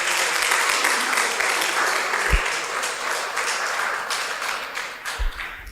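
An audience claps for a guest lecturer at a university leadership session, a full, even roar of applause with a couple of low thumps near the microphone.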